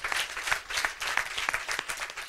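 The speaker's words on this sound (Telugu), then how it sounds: "ఆ చప్పట్లు కూడా దేవుని మహిమపరచాలి." Church congregation applauding during a Christian sermon, a steady patter of many hands clapping at moderate distance, fairly soft and continuous with no voices over it.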